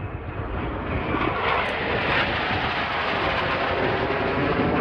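Italian Air Force Eurofighter Typhoon jets at the Farnborough air show, a loud, continuous jet engine roar filling the air at close to middle distance, with no voices.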